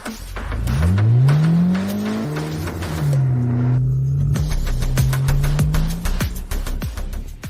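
A repaired car pulls away and drives slowly, its engine note rising and wavering up close. Sharp clicks and knocks are scattered across the drive.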